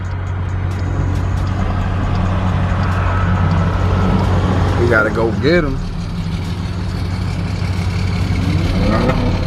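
Several cars including a Ford Mustang and a Subaru run near and loud, a steady engine drone throughout with people talking over it.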